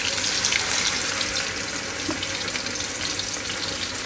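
Marinated chicken frying in hot oil, heard as a steady, dense hiss and crackle that runs unbroken and fairly loud throughout, with no voices.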